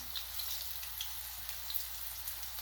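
Aloo methi pakoras frying in hot oil, a steady, fairly quiet sizzle and crackle that continues evenly throughout with no voices.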